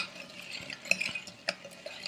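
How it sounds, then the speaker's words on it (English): A spoon slowly stirs lye into frozen goat milk cubes in a container, with soft scraping and swishing broken by a few light clinks of metal on the vessel, close and quiet. "And I am going to very slowly add this lye to the goat milk cubes."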